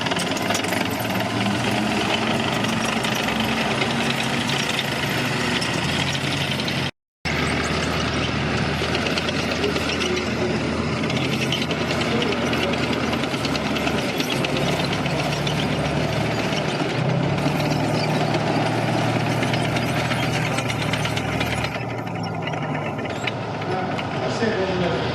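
A World War II tank idling at a Tankfest 2024 display, giving a loud, steady, rough engine rumble that persists throughout apart from one brief dropout, with a voice over it.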